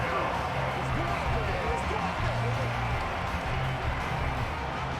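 Stadium crowd cheering in Madden NFL 24 during a Chicago Bears vs Baltimore Ravens game, a constant roaring wash of noise under a commentator's voice.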